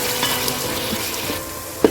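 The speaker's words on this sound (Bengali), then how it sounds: "আবারও ভালো করে নেড়ে ভেজে নেব।" Vegetables for fried rice stir-fry in a pan, a continuous close sizzle with light scraping stirs and a sharp clink of the utensil near the end.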